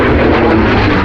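A vintage military piston-engine propeller plane from the Korean War era drones in flight, a loud, steady and close engine roar filling the whole moment without a break.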